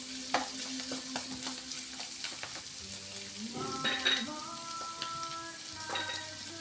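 Mussels fry with garlic and onion in a pan for ginataang tahong, a steady close sizzle with crackling pops and occasional stirring scrapes, no one talking.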